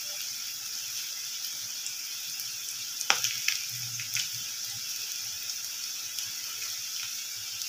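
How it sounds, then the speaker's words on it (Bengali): Potatoes fry in hot oil with a steady, even sizzle throughout, broken by a couple of brief knocks or clinks near the middle. "আলুগুলো লাল করে ভাজা হয়ে গেছে"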